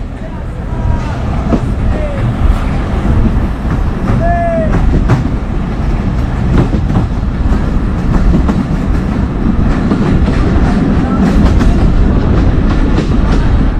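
The Modhumoti Express, running with an old vacuum-braked rake, leaves Mirpur station bound for Poradah, giving a loud, continuous rumble and rattle of carriages with a few brief metallic squeals throughout.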